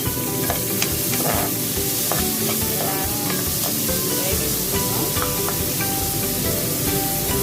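Tomatoes and onions fry in a pan with green chillies and curry leaves, a steady close sizzle under repeated scraping stir strokes, continuous and fairly loud with no talk.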